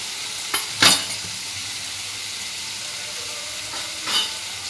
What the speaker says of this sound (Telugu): ఇలా బాగా వేయించుకుంటే బాగుంటుంది.